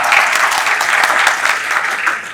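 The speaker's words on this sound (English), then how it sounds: "A round of applause" Conference audience at an IEEE event applauding, a steady dense wash of clapping that fills the whole moment at close, fairly loud level.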